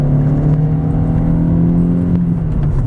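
2002 Volkswagen Golf GLS with a 5-speed manual accelerating uphill with the air conditioning on, a loud steady engine drone from inside the car that pitches slightly as it pulls, with no voices.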